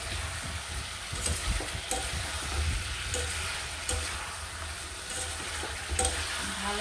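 Chicken curry with kasuri methi sautéed in a pan: a steady sizzle and frying hiss runs throughout, broken by repeated scraping strokes of a spoon stirring the thick masala, close and fairly loud.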